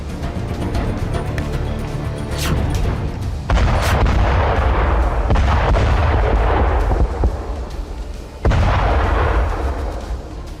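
Gunfire at targets on a Hamas training ground: loud, heavy booming blasts over a continuous roaring rumble, with sharp new bursts breaking in every few seconds.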